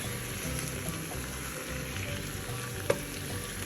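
Mashed boiled potatoes stirred into onions frying in a pan, an even sizzle under repeated soft scraping of a spoon, with one sharp clink near the end and no speech.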